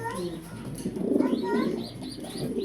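Domestic pigeons coo in a low, throaty, repeated rhythm close by, with a few higher chirps mixed in throughout.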